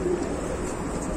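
Racing pigeons cooing in cages at a pigeon house, a soft continuous murmur of coos from many birds close by, steady throughout with no talking.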